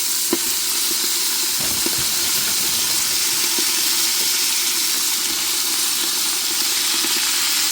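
Steam hisses steadily from a hot pot of cooked fatback on the stove, a continuous close sizzling rush with a few faint clicks and no voices.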